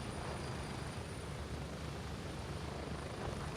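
Helicopter noise from the video game Elite Dangerous: a faint, steady rotor rumble and wash running continuously, heard alone.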